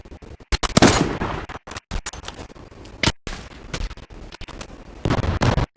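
Repeated gunfire bursts from the online shooter game Zula, sharp loud shots in quick clusters separated by brief silences, close and dominant with no talking.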